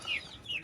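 Chickens cluck and chirp close by in a short burst over faint background noise.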